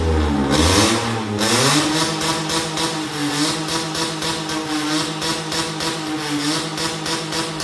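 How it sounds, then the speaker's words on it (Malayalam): A Maruti Suzuki Alto K10 engine revs sharply, then settles into a loud, throbbing idle with a deep, pulsing exhaust rumble from a valvetronic exhaust, close and steady. "ഇനി നമുക്കൊന്ന് ആക്സിലറേഷൻ കൊടുത്ത് നോക്കാം"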